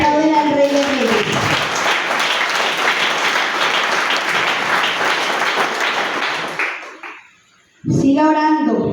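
A church congregation applauds during a Spanish-language sermon, a loud sustained burst of clapping that runs about seven seconds, fades out, then gives way to a preacher speaking again.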